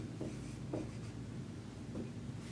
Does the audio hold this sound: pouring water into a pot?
no